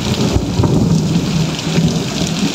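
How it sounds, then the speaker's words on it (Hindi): Heavy monsoon rain pours steadily with deep rolling thunder rumbling underneath, loud and continuous throughout. "अभी तो थंडरिंग हो रही है"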